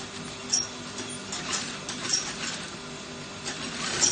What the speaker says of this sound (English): I've turned this to the back, so I'm trying to sew now.